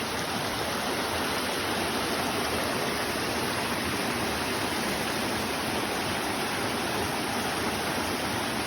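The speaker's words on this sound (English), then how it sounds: "There's the creek." A North Carolina creek flowing steadily nearby, producing a dense, constant broadband rush of running water with no pauses and no voices.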